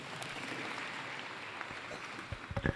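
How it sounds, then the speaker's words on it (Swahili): Applause from the gathering at a church self-help group's annual general meeting, welcoming the chairman: a steady wash of clapping that grows louder and more uneven at the very end. "Tumkaribishe kwa makofi."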